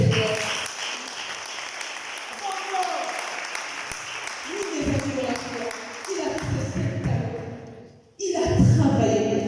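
Applause from a church congregation during a Sunday worship service, a broad steady clapping wash that fills the room for several seconds, dips briefly, then swells again loudly, with voices mixed in.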